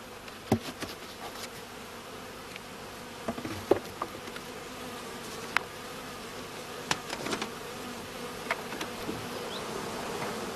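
Honey bees buzz steadily around an open hive colony during beekeeping work, a continuous insect hum with scattered louder individual bees passing close by.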